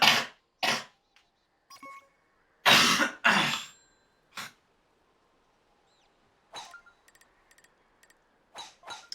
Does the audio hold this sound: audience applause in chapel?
no